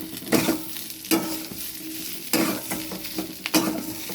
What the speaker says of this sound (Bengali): এবার চাল কুমড়োটা দিয়ে দিই আগে